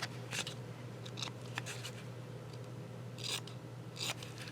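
Scissors snip through a paper book cover, several quick crisp cuts in small clusters with pauses between, close and fairly quiet, no voices.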